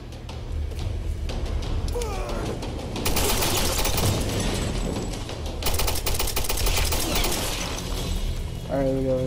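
Rapid automatic gunfire in the video game Tomb Raider, a dense, loud, continuous rattle in two long bursts with mechanical clicks between them, and brief game sounds at the edges.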